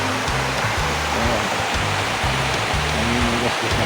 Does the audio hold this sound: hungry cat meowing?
no